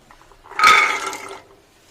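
A short splash of water pouring into a pot of chickpeas, lasting about a second, close up with no talking.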